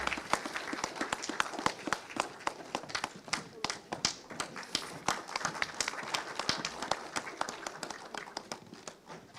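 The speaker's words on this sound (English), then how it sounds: "A huge round of applause." Dense audience applause fills a hall at a national intellectual property awards ceremony, many hands clapping steadily and loudly throughout, with a voice carrying over the clapping.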